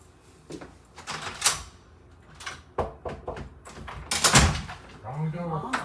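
A door opens with a few knocks and thuds among other handling noises, close and moderately loud, with brief background voices.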